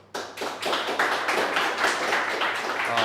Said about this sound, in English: Give a big applause to Jaroslaw Zolnowski